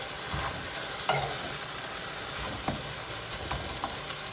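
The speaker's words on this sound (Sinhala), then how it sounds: "දැන් මේ ටිකක් දාගෙන හොඳට කලවම් කරගන්න" Spicy noodles stirred with sauce in a hot pan, a continuous close sizzle with soft scraping strokes and a few light utensil taps.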